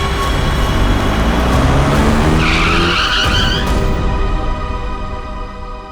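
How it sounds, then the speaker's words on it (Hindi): A car skids to a sudden stop in the middle of a road, tires screeching loudly over a dense, continuous mix of engine noise and background sound that tapers off at the end. "बीच सड़क में गाड़ी क्यों रोक दी?"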